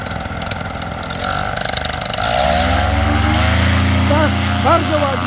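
A paramotor engine roars up to a loud, steady drone that holds at full throttle, with someone shouting encouragement over it during a launch in still air.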